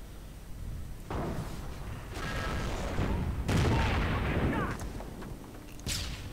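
Sniper and anti-tank gunfire in a real-time strategy war game, with several sharp shots and booming blasts in irregular bursts over a dense rumbling battle background.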